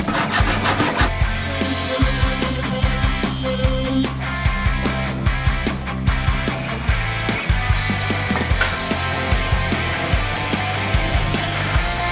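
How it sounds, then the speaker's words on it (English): A handsaw cutting through a wooden front panel for a furniture piece, with rapid, steady rasping strokes in a continuous close rhythm. "While cutting out the front panel, I couldn't quite finish it off with my handsaw"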